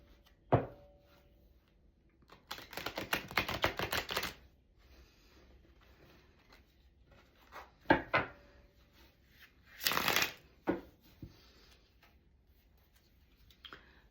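A deck of reading cards is riffled and shuffled in quiet bursts, one long flurry of rapid card flicks followed by shorter taps and slides, close and soft with no speech.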